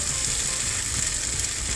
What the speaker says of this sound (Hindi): हमने इन्हें स्लो गैस पर फ्राई किया है।